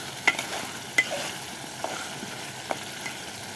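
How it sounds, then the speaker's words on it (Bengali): Spice masala frying in oil, a soft steady sizzle with a few sharp taps and scrapes of a spoon against the pan, quiet and close, without speech. "মশলা কষানো হয়ে গেছে"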